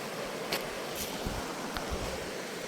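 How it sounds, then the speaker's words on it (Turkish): A year-round mountain stream in a canyon rushes in an even, continuous wash nearby, with a few soft thumps and gusts of wind. "Şöyle güzel bir dere."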